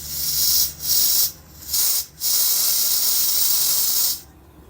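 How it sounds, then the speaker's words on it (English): Propane hisses as it fills a 1 lb green camping tank, loud bursts of high hiss that start and stop several times, close up, with one long final burst and no talk. "You can actually hear the propane going in the bottle as I let the air out."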